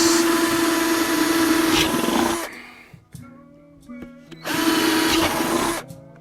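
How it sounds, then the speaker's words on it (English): A 5/8 power drill whines loudly through the wood of a cigar box in two long bursts, separated by a short pause with lighter clicks and handling noises. "this is a 5/8 drill, and we start drilling around the box"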